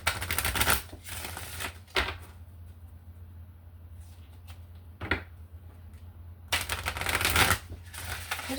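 Angel guide oracle cards are shuffled in several bursts of crisp riffling and slapping, with quiet pauses between the bursts.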